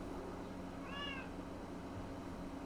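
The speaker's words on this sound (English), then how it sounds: "Sorry, that's my cat." A house cat gives a single short meow partway through, fairly faint over a low indoor background hum.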